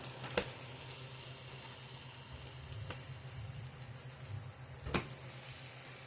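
French toast fries in a pan on a wood stove, a soft continuous sizzle close by, broken by a few sharp clicks or scrapes of a utensil.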